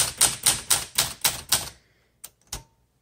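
Keys of a 1965 Olympia SM9 manual typewriter struck hard, six loud, evenly spaced clacks followed by a pause and two more lighter strikes, close and alone.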